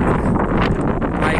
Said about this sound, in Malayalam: ആക്ച്വലി ഇവിടെ നല്ല കാറ്റുണ്ട്, വെയിലുണ്ട്, നല്ല തണുത്ത കാറ്റുള്ളതുകൊണ്ട്